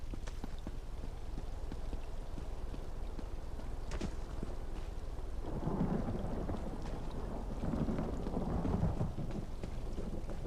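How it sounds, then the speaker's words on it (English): Thunderstorm with steady rain in the video game Elder Scrolls Online, a constant hiss of rainfall with a deep rolling rumble of thunder swelling midway and lingering, no voices. "Thunder, yay!"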